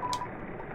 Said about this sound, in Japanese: ちょっと電話しようぜ。